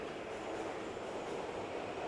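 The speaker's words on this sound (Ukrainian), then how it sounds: "Поки над головами з гуркотом проносилися поїзди" Subway trains rumble continuously overhead in a steady, broad roar, faint and distant, with no voices.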